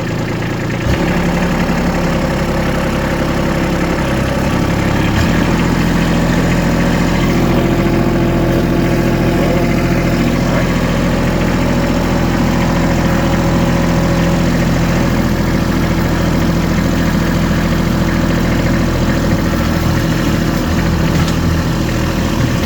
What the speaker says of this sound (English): I'll fire up the tractor here and get a load going.